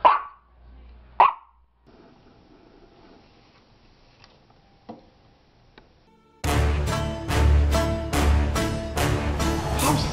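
A large hound barks twice, sharp and close, followed by a quiet stretch with faint scattered sounds, then a loud burst of dramatic trailer music with pounding hits.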